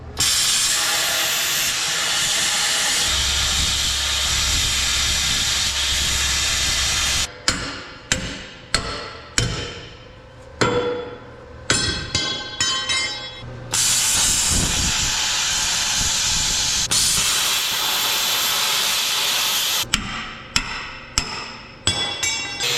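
An angle grinder cutting through metal shock mounts on a truck, a loud sustained whine broken into repeated short bursts as the tool is pulled off and reapplied, with no talking.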